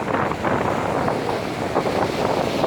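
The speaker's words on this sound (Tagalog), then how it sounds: "Lalaki nga ang alon." Heavy surf from typhoon-driven waves churns and roars steadily near a pier, mixed with gusty wind buffeting the microphone, loud and continuous throughout.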